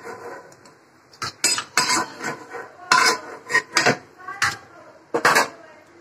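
Malpua being lifted out of the pan onto a plate, with a series of sharp metallic clinks and scrapes of utensil against cookware, irregular and close, separated by brief quiet gaps.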